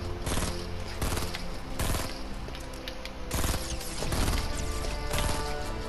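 Rapid bursts of automatic gunfire from the video game Fortnite, dense and loud with overlapping shots and impacts across the whole stretch, no speech over it.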